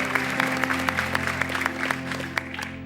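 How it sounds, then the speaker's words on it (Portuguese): Congregation in church applauding, a steady roomful of clapping with individual claps standing out over a sustained low hum. "Dê um aplauso bem forte a Deus."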